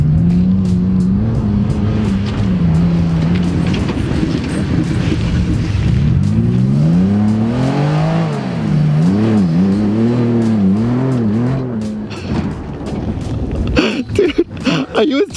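A new Ford Raptor pickup truck accelerates hard, its loud engine note climbing and falling through several strong revving sweeps, while people talk over and around it.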